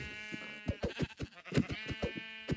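Sheep in the video game Minecraft bleat in a quick series of short, nasal calls, several overlapping in a choppy rhythm, fairly faint and alone.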